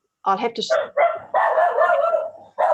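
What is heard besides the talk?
dog barking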